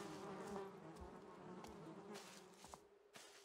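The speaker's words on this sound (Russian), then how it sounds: "Тоже там в этих катакомбах мухи." Flies buzzing in dark catacombs in the stealth video game Thief, a steady close insect drone wavering in pitch, with a few soft thuds and clicks underneath.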